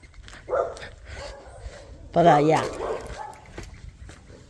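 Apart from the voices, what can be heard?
puppies barking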